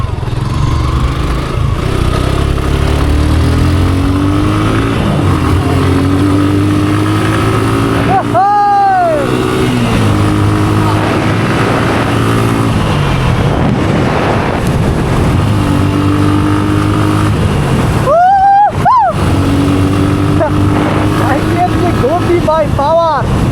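A motorcycle on the move gives a loud, continuous engine drone from start to finish, with a couple of brief rising and falling pitch sweeps as it rides along.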